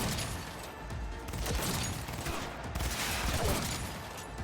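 Rapid gunfire with explosive rounds in the video game Cyberpunk 2077, a dense continuous barrage of booming shots and blasts filling the whole stretch at steady loudness, with no clear talk.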